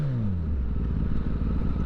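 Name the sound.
Kawasaki Ninja ZX10R motorcycle revving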